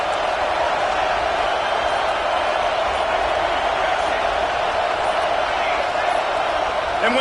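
Loud, continuous stadium crowd roar at a football game near the goal line, a dense steady wall of cheering with no break.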